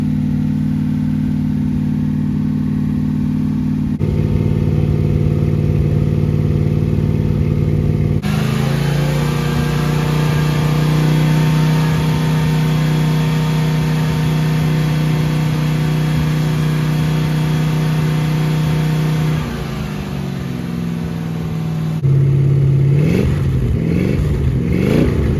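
A new 440 V8 in a 1970 Plymouth 'Cuda runs during break-in, a loud steady engine drone close by that shifts pitch as the revs change, with no one speaking.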